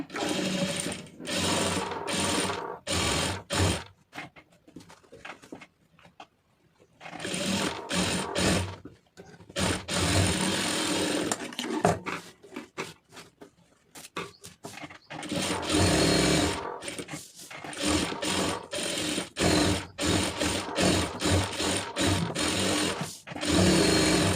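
Sewing machine stitching the lining fabric of an Aari blouse, running in loud, close bursts of rapid whirring with short pauses between seams and a longer stop midway.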